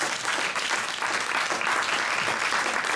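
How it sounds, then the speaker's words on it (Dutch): A hall audience gives steady, dense applause after thanks at a Dutch event, many hands clapping together in a continuous wash with no pauses. "voor hun graag een applaus alsjeblieft"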